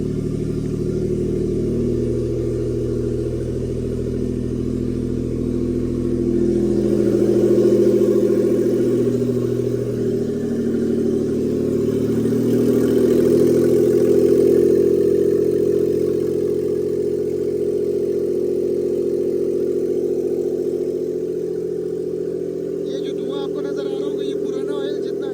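A Suzuki Alto VXR car engine has just been started and settles into a steady, rumbling idle, loud and close, with a slight rise in revs midway.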